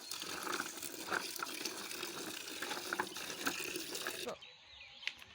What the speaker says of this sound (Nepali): बेसार पखालेपछि अलि माटो ठ्याक्क जान्छ नि त, राम्रो हुन्छ